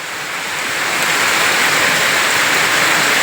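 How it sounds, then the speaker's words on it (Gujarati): Heavy rain pouring down in a dense, steady hiss that swells a little in the first second and then holds constant and loud, with no other sounds. "હવે તમારી જિંદગીમાં આવો વરસાદ નહીં જોયો હોય એવો પડે છે આ"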